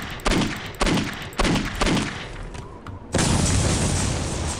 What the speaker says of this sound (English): I still got hit by a grenade